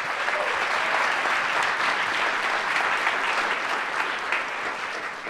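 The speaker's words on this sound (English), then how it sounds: "Give them a big round of applause." Concert audience at a Thousand Oaks Philharmonic youth orchestra performance claps in steady, full applause, a broad continuous patter from a large hall crowd that tapers slightly toward the end.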